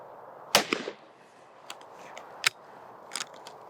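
A side-by-side shotgun fires at a clay target, a sharp distant-sounding crack followed by a few softer, smaller pops spread across the following seconds, with no voices.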